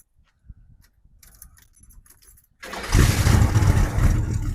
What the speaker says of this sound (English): Carbureted car. Fires right up about a half a turn there.